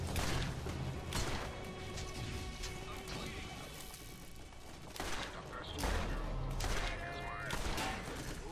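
Gunfire rattles while shooting a boss in the Borderlands video game, Claptrap robot revolution DLC, with repeated loud bursts and crashes in clusters over busy game sounds and music.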